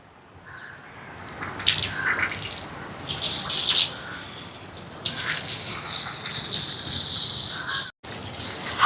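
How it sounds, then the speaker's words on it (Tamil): Water gushes steadily into a cooking pot holding vegetables and tomatoes, poured until it covers them for a rice dish; a loud, continuous splashing pour runs for several seconds with a brief break near the end. "மரக்கறிகள் எல்லாம் மேலே நிற்கிற அளவுக்கு தண்ணி எடுத்தாச்சு"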